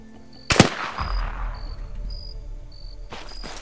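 Video game gunfire: a sharp loud shot burst near the start, a quieter stretch with faint repeated beeping tones, then another burst of shots at the end.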